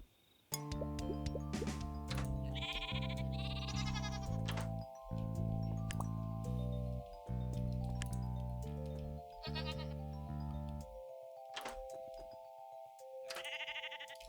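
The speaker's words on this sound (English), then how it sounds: "Oh, the bloody sheep keep escaping." Sheep bleating in the Miniland Adventure video game, several wavering cries rising over a loud chiming tune of game music, with short breaks between calls.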